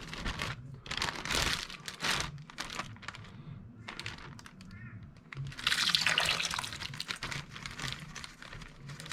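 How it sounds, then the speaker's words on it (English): Thai marinade pours and splashes into a crinkling plastic bag at close range, with rustling and a few soft knocks. "So there's my marinade, all mixed up, ready to go. Also, I'm going to pour that into my bag."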